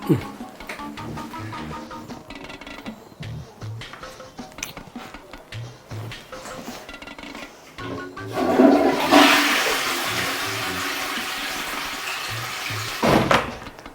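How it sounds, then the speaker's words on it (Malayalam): A bathroom toilet flushes with a loud rushing surge of water that slowly tapers off, after quieter handling noises and some talk nearby. "അങ്കിള് ബാത്റൂമിൽ പോയൊന്ന് ഫ്ലഷ് അടിച്ചൂടെ?"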